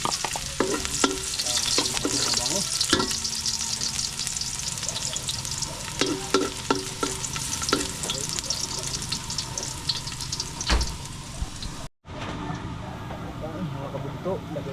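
Ginger and garlic sizzle steadily in a hot pan with occasional stirring scrapes, a continuous close frying hiss with a voice speaking over it, before fish is cooked.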